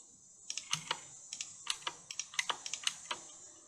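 Values are typed on a computer keyboard in short bursts of crisp, close keystrokes separated by brief pauses, fairly quiet, with no talking.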